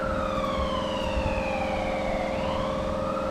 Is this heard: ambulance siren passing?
yes